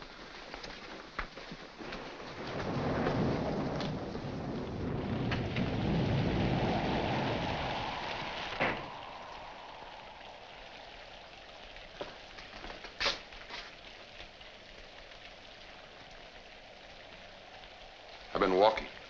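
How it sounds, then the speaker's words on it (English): A thunderstorm with heavy rain, a long rolling rumble of thunder swelling early and fading under constant rainfall, with sharp cracks later on and people talking quietly over it. "In this rain? Yes, in this rain."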